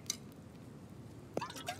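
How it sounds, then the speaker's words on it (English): Dirty water poured out in the survival video game The Infected, a short faint liquid splash and drip alone against quiet game ambience. "Let's throw the dirty water out."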